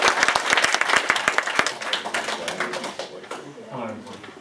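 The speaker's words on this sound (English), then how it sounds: "big round of applause for Simon Clark" Conference audience applauding a speaker, a burst of sharp, close hand claps that thins out and fades after about a second and a half, followed by a voice speaking.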